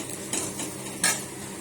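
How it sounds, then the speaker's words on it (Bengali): A metal spatula clinks and scrapes in a pan while bitter gourd fries with onions. A few sharp taps and stirring scrapes sound close up over a faint low sizzle, and no one speaks. "বেশি করে একটু পেঁয়াজ দিয়ে করলা ভাজা করছি।"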